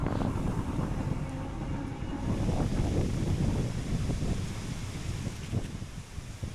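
Strong headwind buffets the microphone during an off-grid cargo e-bike ride along a road, a loud continuous low roar with gusty surges throughout and no talking.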